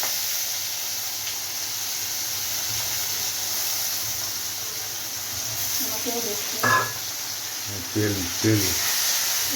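Green chillies and chopped onion frying in a pan, giving a steady soft sizzle and hiss throughout, with a few louder clinks and stirring noises near the end.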